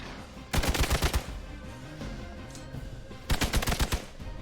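Gunfire in Marvel's Midnight Suns comes as two close, loud bursts of rapid shots, each about half a second long and a few seconds apart, with a quieter game bed between them.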